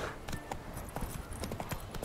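Horse hooves clip-clop in a steady quick gait while riding in The Witcher 3 Wild Hunt. The crisp, evenly spaced hoofbeats sit over a soft game ambience.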